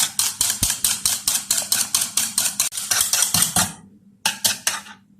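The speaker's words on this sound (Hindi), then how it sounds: "बीटर से मैं फेंट रही हूँ।" Rapid, even rattling clatter of a hand beater whisking fruit cake batter in a bowl, steady rhythmic strokes that pause briefly before resuming, close and fairly loud with no talk.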